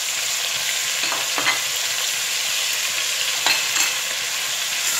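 Onions sizzle in hot oil in a pan as a steady, bright frying hiss, close and fairly quiet, with a few soft stirring scrapes and no talking.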